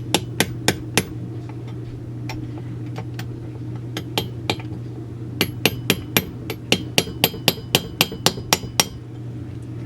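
Sharp hammer taps seat a seal into a Stihl MS200T chainsaw, a few spaced strikes early on, then a quick run of a dozen or so evenly paced metallic taps over a steady low background hum.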